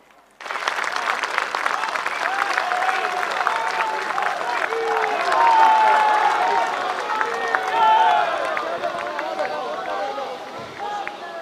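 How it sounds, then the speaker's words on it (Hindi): Loud, sustained applause and crowd noise fill a large hall welcoming Prime Minister Narendra Modi at a Netaji Subhas Chandra Bose commemoration event, with dense clapping continuing steadily throughout and swelling slightly midway. "उनका जोरदार तालियों से स्वागत किया जाए"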